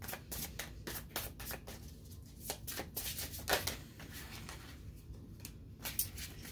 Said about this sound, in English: Let me get a few more cards on the connection